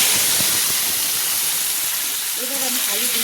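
Cut potato chunks for a niramish sweet pumpkin chakka drop into hot oil, a broad steady hiss and sizzle filling the whole stretch at an even loudness, with a few faint tonal clinks near the end.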